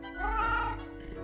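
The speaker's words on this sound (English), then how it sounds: "The cat notes melodiously." A single drawn-out cat meow from the video game Death and Taxes, a clear melodious tone rising then falling over about a second, close and alone.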